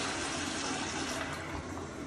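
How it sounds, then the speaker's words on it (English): A Flushmate 503 pressure-assisted toilet flushes with a loud, steady, forceful whoosh of rushing water that holds at full strength for about two seconds. "the toilet should flush. You have a small jet engine."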